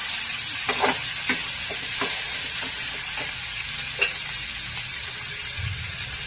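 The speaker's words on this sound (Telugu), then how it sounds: "ఇది బాగా గోల్డెన్ ఫ్రై చేసుకోవాలి." Leafy greens fry in a pan with a steady broadband sizzle, punctuated by several short stirring scrapes and clinks, close and fairly loud, with no voices.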